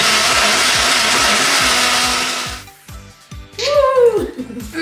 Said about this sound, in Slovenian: Daš v mikser. A je vključen?